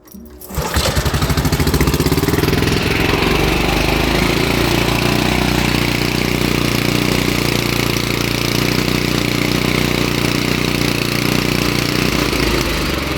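A 1971 Toro 726 snowblower with a Briggs 7hp 275cc engine catches after a brief start and runs steadily, a loud close rough idle drone that holds without interruption.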